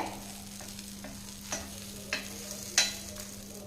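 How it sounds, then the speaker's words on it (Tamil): Egg omelette with vegetables frying in a pan gives a quiet, steady sizzle, broken by a few soft clicks and scrapes from a spoon, with no voices. "ஆம்லெட் வந்து வேகட்டுங்க அதுக்கப்புறம் நம்ம திருப்பி போட்டுக்கலாம்"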